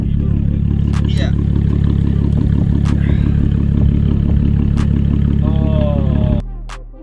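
An Audi S4 with a newly installed loud Armytrix exhaust idles nearby in a heavy, loud, rumbling drone with a few sharp blips and brief voices over it, then drops off abruptly near the end.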